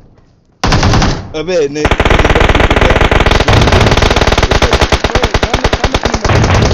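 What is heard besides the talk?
gunfire in video game PUBG Mobile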